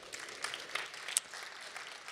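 A conference audience applauds a speaker, a steady burst of many hands clapping at moderate distance, without voices over it.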